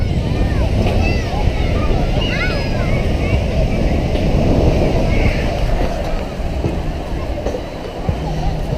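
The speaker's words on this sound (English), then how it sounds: "Pacific Ocean, salt water." Pacific Ocean surf rumbles and washes loudly and continuously up close, mixed with heavy wind buffeting the microphone.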